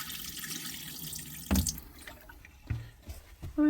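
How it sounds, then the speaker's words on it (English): Liquid poured into a sink drain while winterizing a Class B RV, trickling and splashing, with a few louder bursts of pouring and clinks, fairly close. "after we pour some in the drains"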